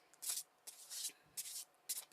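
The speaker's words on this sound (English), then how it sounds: "so we're going to give it another quick shuffle here" A tarot card deck shuffled during a Red Dead Redemption 2 livestream reading: four short, bright, papery riffling bursts with brief pauses between them, close and fairly quiet.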